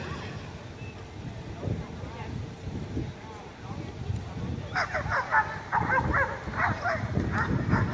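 A police dog in bite training barks and yips in short bursts, the barking growing busier and louder toward the end, mixed with people talking.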